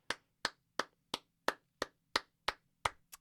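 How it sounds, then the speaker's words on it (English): Single sharp hand claps repeat at an even, steady pace, about three per second, close and crisp against near silence. "You're not gonna clap at that, but you clap at Moana."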